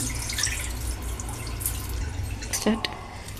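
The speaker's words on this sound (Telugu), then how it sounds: "ఇంకొంచెం సగానికి పోసుకొని కడుక్కోవాలి కడుక్కొని రెండు నిమిషాలు నానబెట్టి" Water splashes and drips from a tap while leafy greens are rinsed in a vessel, a brief close trickle with a few splashy accents near the end.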